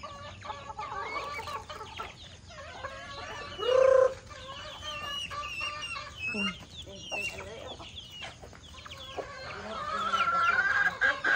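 Chickens and a rooster cluck nearby, with scattered short clucks, one louder call and other farmyard noises over a quiet background.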